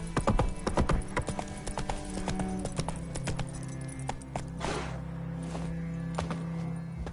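Horse hooves gallop in The Witcher 3: Wild Hunt video game, a rapid, close, loud clip-clop with a few softer breathy snorts and a faint steady hum beneath.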